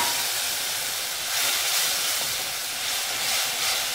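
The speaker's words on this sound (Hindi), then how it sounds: "तेल हमारा गरम हो गया है इसमें डालेंगे अजवाइन साथ ही डालेंगे लहसुन प्याज मिर्ची पेस्ट" Ajwain and a garlic-onion-chilli paste hit hot oil for a yam (suran) curry, giving a loud, continuous broadband hiss and sizzle that swells gently, close up with no talk.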